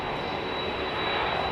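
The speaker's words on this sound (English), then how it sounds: "Listen to those engines. Isn't that a beautiful sound" Jet airliner engines roaring at London Heathrow Airport, a steady, loud broadband rumble with a thin high whine, heard alone without talk.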